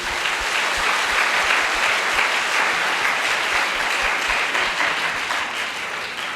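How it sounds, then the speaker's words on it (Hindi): A congregation at a worship service claps loudly and continuously, a dense crowd of hands that stays strong for several seconds before easing slightly at the end. "प्रभु यीशु के लिए जोरदार ताली बजाइए"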